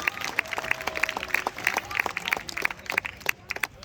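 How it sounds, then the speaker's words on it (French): Audience applauding at an interview, a crowd of scattered hand claps in a steady patter, with a few voices murmuring underneath. "pouvez applaudir Christelle."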